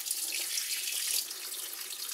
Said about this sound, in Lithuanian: reikia leisti šaltą vandenį.